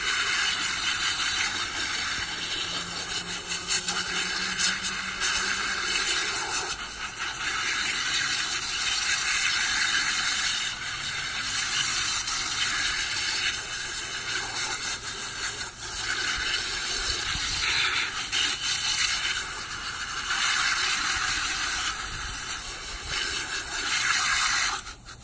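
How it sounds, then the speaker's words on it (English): Water sprays out paint pans in a long, loud, hissing stream that shifts and scrubs in texture, with brief dips as the spray moves, and no talking. "I always spray my pans out."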